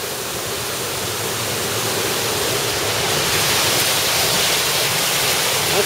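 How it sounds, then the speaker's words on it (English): Water rushes steadily down the flume of a small custom-built water wheel beside a little Vermont brook, a loud, unbroken wash of noise that swells slightly toward the end. "Got water running down the flume."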